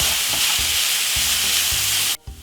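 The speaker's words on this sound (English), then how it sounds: "And stir fry this about 3 to 4 minutes." Vegetables with soy sauce stir fry for a vegetable couscous, a dense, continuous sizzle with rhythmic spatula clatters in the pan before the sound cuts off abruptly near the end.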